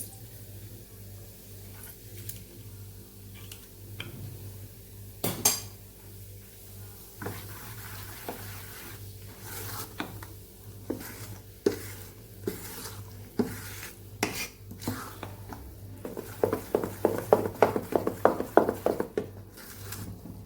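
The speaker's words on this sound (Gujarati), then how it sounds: "સરસ આપણે મિક્સ કરી દેવાનું છે।" A spoon stirs rava and besan dhokla batter with Eno and lemon juice added, giving soft wet squishes and scattered taps against the bowl that quicken into a fast rhythmic run of clicks near the end; no voices.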